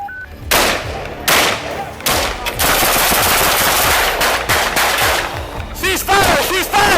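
Rapid bursts of loud police gunfire at a suspect crack repeatedly, with shots overlapping into volleys and echoing, plus brief shouting voices in the background.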